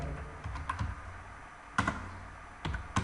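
Irregular bursts of keystrokes on a computer keyboard while writing Python code, close and moderately quiet, with short clusters of taps separated by pauses and no talking.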